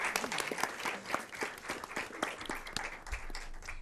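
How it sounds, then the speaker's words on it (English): A room of people applauds school award honorees at a school board meeting, with sustained clapping at moderate level throughout and a brief low thump near the end. "Let's give another round of applause to our Virginia Exemplar School Award honorees."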